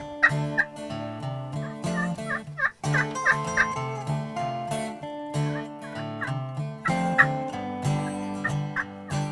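Several wild turkeys gobble in repeated bursts over a steady background in New Jersey, some calls close and loud, others overlapping at a distance.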